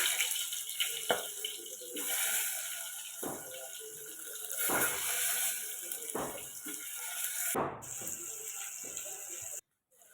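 Eggplant dropped into hot oil with mustard seeds for tempering, giving a loud, steady hissing sizzle with sharp crackling bursts every second or so, cutting out abruptly near the end.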